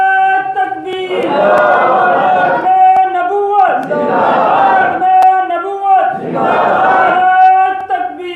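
A large crowd shouts a takbir response in unison during a Friday sermon, three loud sustained waves of massed voices with brief gaps between them.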